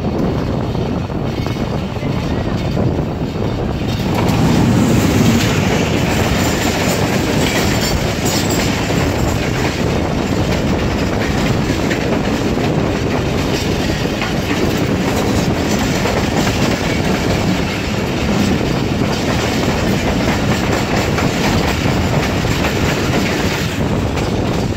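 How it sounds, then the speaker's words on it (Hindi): The Tezgam Express, running between Karachi and Rawalpindi, passes close by at the Hyderabad outer signal: a loud, continuous roar of coaches with rhythmic wheel clatter and occasional squeals, sustained for about twenty-five seconds. "तो हैदराबाद आउटर पर हमारी मुलाकात हुई कराची और रावलपिंडी के दरमियान चलने वाली 7UP तेजगाम"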